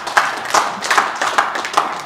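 An audience at a technology and innovation conference claps, with a few distinct, fairly close claps spaced in a loose rhythm rather than a full ovation.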